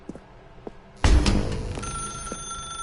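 A telephone rings in The Stanley Parable, an old-style bell ring that bursts in loudly after a sharp clunk and keeps sounding in the room.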